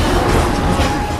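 A train rushes through a station in Final Fantasy VII Remake, a loud, dense, continuous roar with rattling wheel noise, close and unbroken for the whole moment.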